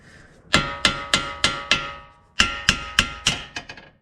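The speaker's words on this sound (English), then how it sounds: "we're supposed to be able to hammer that out." Metal hammer blows ring out close by as a tie rod is hammered out of a 2007 Toyota RAV4, two bursts of about five and six sharp clanging strikes in a steady rhythm, with no voices.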